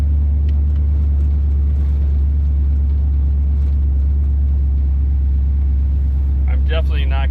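A 1976 Corvette driving on slush, its engine a loud, steady low rumble throughout with constant road and tire noise, and a voice talking over it near the end.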